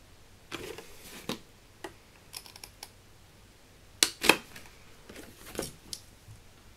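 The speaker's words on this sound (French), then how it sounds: "Donc là, je vais venir couper droit" Scissors or a blade cutting straight through paper or card for a homemade mask storage box, sharp scattered snips and crisp clicks with quiet gaps between them, close and fairly faint.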